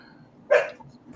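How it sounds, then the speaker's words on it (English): A dog gives a single short bark, fairly close and clear, against a quiet room background. "Is your dog barking?"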